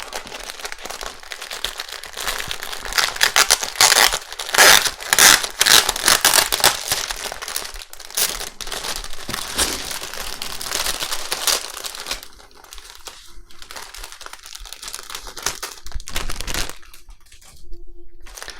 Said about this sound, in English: This is a resealable bag.